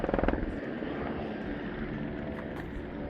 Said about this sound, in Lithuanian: Skraida malūnsparnis kažkur.